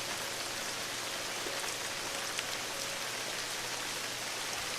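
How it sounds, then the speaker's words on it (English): Heavy monsoon rainstorm pouring steadily, a dense continuous hiss of rain striking surfaces with no break across the whole stretch, fairly close and even in level. "It's a freaking monsoon."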